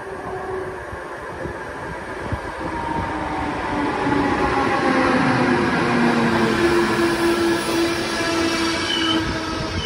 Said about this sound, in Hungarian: jön a vonat